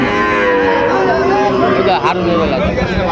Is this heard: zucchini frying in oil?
no